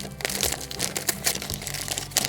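Blue vet wrap crinkles and crackles up close around a horse's hindquarters, giving a busy, continuous papery rustle with scattered sharper snaps and no voices.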